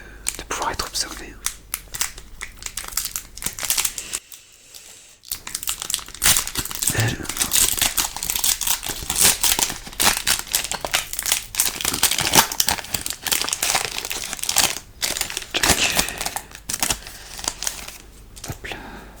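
Lorcana card booster packs are torn open and handled up close, with dense crinkling and crackling of foil wrappers in busy bursts, a brief silent gap near the start, and soft whispered talk mixed in.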